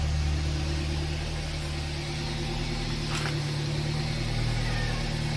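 A used car's engine idles steadily, heard up close at the rear exhaust with an even low hum and no rough surges.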